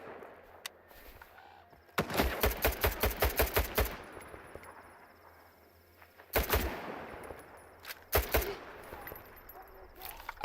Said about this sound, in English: Where's he shooting from?